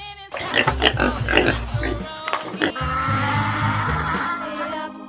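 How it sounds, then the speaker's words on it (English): Pig oinking and grunting in a farm-animal sound sequence, several loud close grunts and squeals running continuously through the clip with no talk. "pig"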